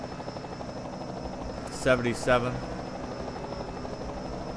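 A helicopter thrums in a stock car racing video game at Darlington, heard in two brief close passes under a commentator's steady play-by-play and a constant bed of engine drone.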